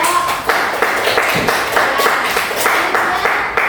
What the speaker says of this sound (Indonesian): tepuk tangan dulu untuk kedua kelompok